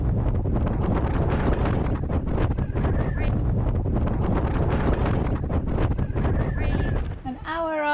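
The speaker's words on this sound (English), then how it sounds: "Whilst choosing a mooring, a strong wind picks up, making tying up a little bit more of a challenge." Strong wind roars across the microphone at a reef anchorage on a sailing trip to Rangiroa Atoll in the Tuamotu archipelago, a loud, steady buffeting that eases near the end, with voices underneath.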